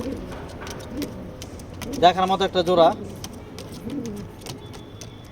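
A pair of racing pigeons coos in a loft, a clear rolling burst of throaty coos near the middle, with someone speaking briefly before and after.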